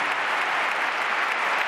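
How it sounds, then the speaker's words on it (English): A football stadium crowd at a Sevilla versus Barcelona match stands applauding after the Sevilla hymn. The dense, steady roar of clapping fills the brief stretch evenly, with no voices above it. "The whole stadium on their feet, applauding"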